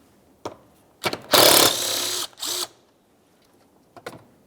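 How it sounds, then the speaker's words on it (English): Ratchet loosening the 8mm mounting bolt that holds the coolant reservoir to the fan shroud of a 2003-2011 Mercury Grand Marquis, a few short clicking and grinding bursts close up, separated by quiet gaps. "The next thing that we'll do is remove the one 8mm headed mounting bolt"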